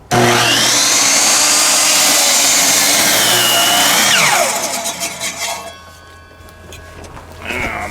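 A sawmill blade whines through wood for about four seconds, cutting stakes outdoors in freezing weather, pitch sagging as it cuts, then winds down into quieter clattering and machine hum.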